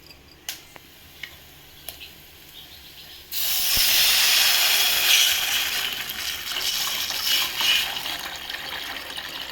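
After a few light clicks, tomato rasam made with tamarind is poured all at once into a hot pot, and a sudden loud hiss and sizzling rush holds steady for several seconds.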